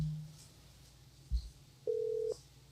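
A phone call ringing out on the line, a single quiet steady ringback tone lasting about half a second, with a brief soft thump before it and low room noise.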